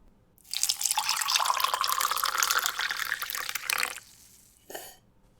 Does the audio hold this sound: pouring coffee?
yes